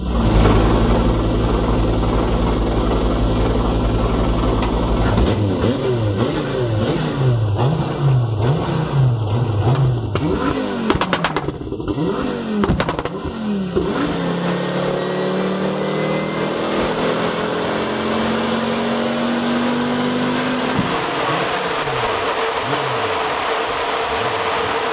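A tuned Ford Focus RS engine on a dyno, idling at first, then revving in repeated rising and falling sweeps before a long climbing pull, loud and close throughout with no voices.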